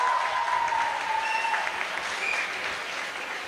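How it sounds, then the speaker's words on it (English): A conference audience at Srinivas University gives a quiz team in a physiotherapy event a steady, even round of applause. The clapping is heard from some distance and carries a faint tonal ring. "Please give them a round of applause"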